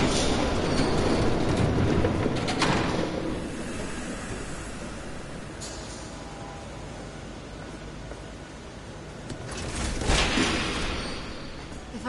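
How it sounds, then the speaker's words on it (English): A train approaches in The Batman video game, a steady heavy rumble of wheels and rattling carriages with metallic squeals, building to a louder rush near the end. "There's a train coming."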